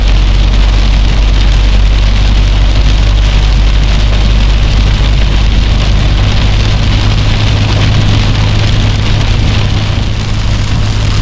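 Heavy rain pours steadily throughout in Fang, Thailand, a dense constant roar with a low rumbling undertone, close and loud with no voices.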